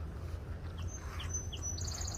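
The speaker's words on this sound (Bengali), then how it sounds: "গাছে পাখি ডাকছে," Small birds call from trees in a calm outdoor setting, with a few thin, high chirps and a quick run of repeated tweets near the end, standing out above a steady low rumble.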